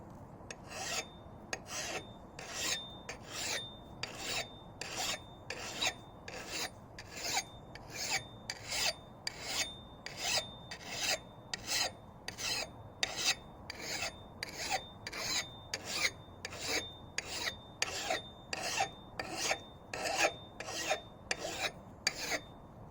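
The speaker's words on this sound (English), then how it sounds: "To sharpen an axe, use a file to create a cutting edge along each side following the existing angle." A hand file sharpening an axe edge, with steady rhythmic rasping strokes repeating roughly every second, each stroke bright and scratchy, close and loud against a quiet background with no talking.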